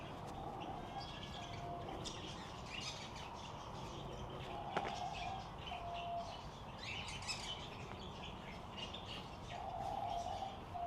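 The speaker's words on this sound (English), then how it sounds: "there's a crow on the top there wanting to get in" A crow perched atop a park aviary calls alongside other birds, with scattered chirps and squawks at moderate distance over steady outdoor ambience.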